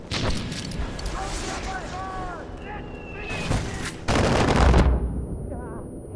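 Mortar and gunfire in Far Cry 4, with bursts of gunshots and a heavy blast around the middle, then a loud booming explosion near the end, while a voice speaks over the chaotic firefight.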